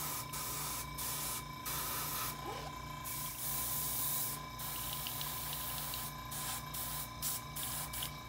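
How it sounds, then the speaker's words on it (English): An airbrush sprays paint onto a diorama base in a steady, close, continuous hiss that breaks off briefly several times as the trigger is released, with a low background hum underneath. "That should be enough as far as the airbrush is concerned."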